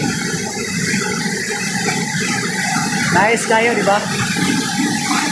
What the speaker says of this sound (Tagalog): kita nyo naman ang agos ng tubig.